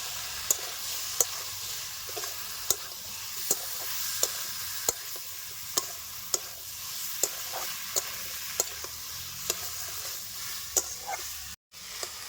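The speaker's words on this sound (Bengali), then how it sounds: "মশলাগুলি ভালো মতন কষানো হয়ে গেছে এবার আমি দিয়ে দিব বেজে রাখা করলা আর আমি দিয়ে দেবো অল্প মটরশুঁটি" Fried bitter gourd and a few green peas tossed into well-cooked spices in a pan, giving a steady sizzle with repeated sharp clicks of a spatula stirring and scraping, no voices.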